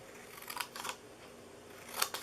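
Scissors snip through paper while a birthday gift box is made, with about four short crisp cuts in two pairs separated by a pause, close and fairly quiet, with no speech.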